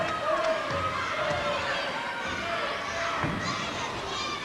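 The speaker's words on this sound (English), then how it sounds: "The big crowd thoroughly enjoying the grand final" A big crowd at a 1982 Top Shot basketball grand final between Bruins and Perkunas cheers and shouts steadily throughout, a dense, loud roar of many voices with excited calls rising above it.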